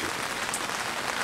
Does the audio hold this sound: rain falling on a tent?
yes